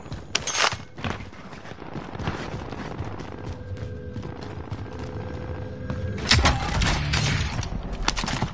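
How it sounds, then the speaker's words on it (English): A loud gunshot in a game, apparently from an AK-47-style rifle, sharp close cracks with ringing mechanical tails over a rumbling background of game ambience and effects. "That was a loud gunshot."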